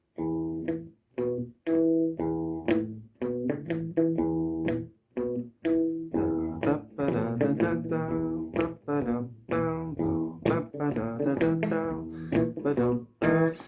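A guitar plucks a low, rhythmic bass line of distinct notes with short pauses between phrases, played alone without any talking.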